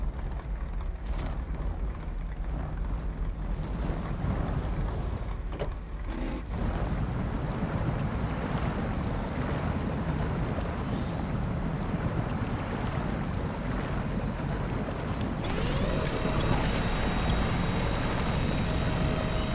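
In the video game SnowRunner, a truck pushes through a water hole, giving a continuous churning, sloshing rumble of water and engine noise without any talk.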